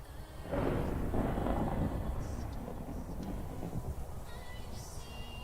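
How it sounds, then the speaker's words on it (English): A Minecraft thunderstorm rolls through as a long, low thunder rumble swells and fades, with rain hiss beneath and faint game tones near the end. "Great. Flying in a storm."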